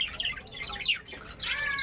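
Pet budgerigars chirping indoors in a home aviary, a dense stream of high, rapid twittering calls overlapping continuously and fairly close, with no talking.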